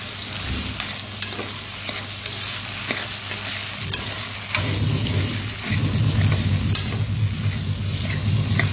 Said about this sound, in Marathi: व्यवस्थित सतत ढवळत राहायचं